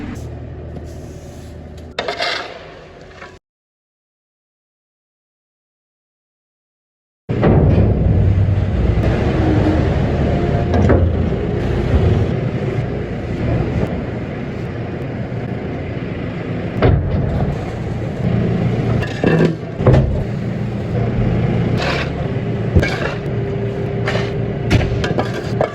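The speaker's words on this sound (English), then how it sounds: "Kev's just filling up the hopper here, wood chip" Wood chip pours and rustles steadily into a farm hopper, a continuous rough scraping rush that runs for most of the stretch after a brief gap of silence, with occasional louder knocks.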